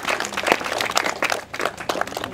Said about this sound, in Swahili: Naomba mjipigie makofi ndugu zangu wa dini.